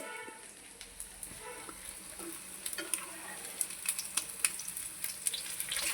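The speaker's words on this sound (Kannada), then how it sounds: "ಶಾಲೋ ಫ್ರೈ ಮಾಡ್ತಾ ಇದ್ದೀನಿ" Sabudana vada shallow frying in a pan of oil, a close, steady sizzle with irregular crackles and spatters that grow busier toward the end, alone without talk.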